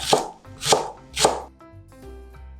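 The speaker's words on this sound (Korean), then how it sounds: "대파는 어슷하게 썰어줍니다." Three firm knife strokes through green onion on a cutting board, evenly spaced about half a second apart, close and crisp, followed by quieter handling sounds with no voices.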